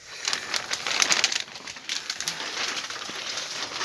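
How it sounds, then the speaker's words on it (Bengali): Pigeons in a breeding loft coo continuously at close range, their overlapping soft calls layered with light rustling and scattered sharper notes, with no talking. "ব্রিডিং লফটের কবুতর।"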